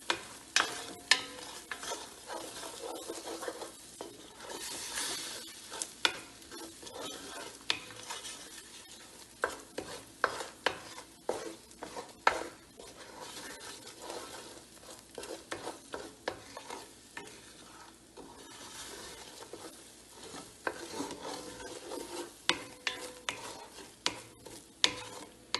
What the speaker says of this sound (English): And we can mix it with onion and everything.